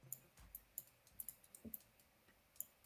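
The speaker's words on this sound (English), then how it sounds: "I love the mouse clicks." Sharp computer mouse clicks, about a dozen irregularly spaced taps, quiet and close against a faint background, with no talking.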